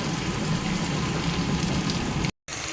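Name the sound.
food frying lightly in a pan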